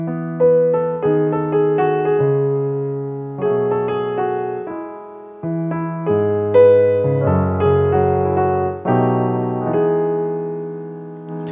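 Dissonant piano-like chords played within a song, clashing harmonies struck in a series of loud sustained blocks with brief gaps between them, no voices present.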